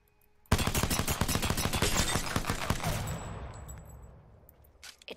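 Rapid automatic gunfire in the battle-royale shooter Apex Legends, a loud close burst of repeated shots lasting a couple of seconds, then fading into a ringing echo and quieter scattered sounds, with no talk.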